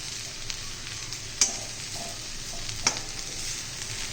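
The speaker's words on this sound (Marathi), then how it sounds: "आपली मधून हलवत राहायची म्हणजे खाली नाही लागत" Masala bhindi (okra) fries in a pan with a steady hiss, as a spatula scrapes through it twice in sharp, distinct strokes, up close and with no voices.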